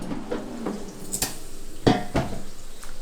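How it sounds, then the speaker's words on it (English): Burgers turned over in an air fryer basket, with a few sharp metallic clinks and scrapes of a utensil against the basket over a soft low background, close by and without talk. "now we're going to flip the burgers"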